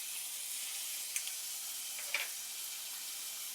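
Ground chili paste sizzles against sautéed onions in a pan for honey chilli potatoes, a faint steady hiss with a couple of soft clicks of utensil contact, quiet and without voices.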